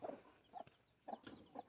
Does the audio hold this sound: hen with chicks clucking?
yes